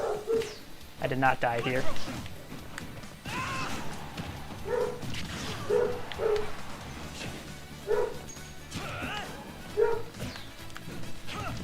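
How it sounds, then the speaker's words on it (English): Dogs bark and yip in short repeated bursts at moderate distance, scattered through the stretch while someone talks nervously over them during a game. "I hope you guys like dogs, because that's what you're all hearing right now"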